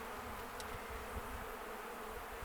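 Honeybees hum in a dense, steady drone during a backyard hive inspection, close and continuous with faint rustling.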